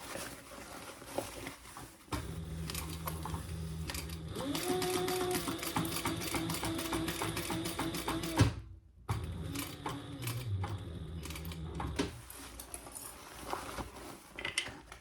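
A sewing machine stitches a bag's lining to its side panel at a 5/8-inch seam allowance, with a steady close mechanical whir for several seconds, a short pause, then another burst of stitching.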